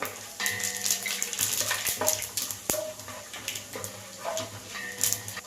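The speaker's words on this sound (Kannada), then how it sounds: "ಒಗ್ಗರಣೆಗೆ ಜೀರಿಗೆ ಮತ್ತು ಮೆಣಸನ್ನು ಹಾಕೊಳ್ಳೋಣ" Cumin and black pepper tempering, added to hot oil with cashews for savory khara Pongal, sizzles steadily in a pan, with a few sharp clinks and scraping stirs over the crackle.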